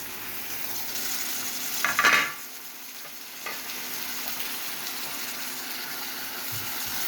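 Onions and tomatoes cooking in a pan for paneer bhurji, a steady soft sizzle throughout with a brief stirring scrape near the start.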